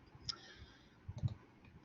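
A computer mouse click on an insert button: a soft, close click near the start, then a small cluster of muffled taps, quiet against a near-silent room.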